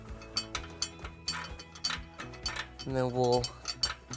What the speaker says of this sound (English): turn the bolt head from the other side until it is attached